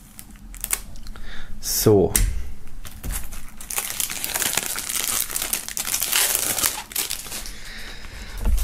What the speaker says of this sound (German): Wir werden das Ganze mal aus der Folie holen.